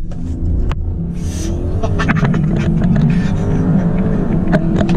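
2021 Audi SQ7 twin-turbo V8 SUV accelerates hard from a brake-loaded launch, its deep engine roar building loudly and steadily, heard from inside the cabin.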